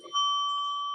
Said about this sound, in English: Another bell for him from Maranya.